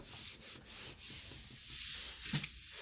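Paint being rubbed through a stencil onto a gel plate: soft, close, hissing friction that continues steadily at low volume with a few brief swells and no one talking.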